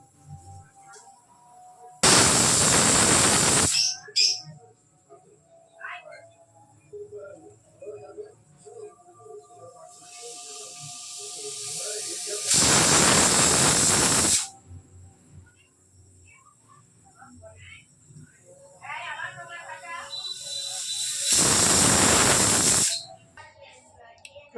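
A pressure cooker making chicken soup lets out three long, loud hissing bursts of steam, evenly spaced, with quieter kitchen clatter and a faint voice in the gaps.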